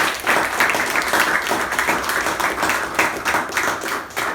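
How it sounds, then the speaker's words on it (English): Loud, close applause from a Toastmasters meeting audience, many hands clapping in a fast uneven patter that swells and dips for the full few seconds with no talk over it. "Let's give him a special thunderous round of applause."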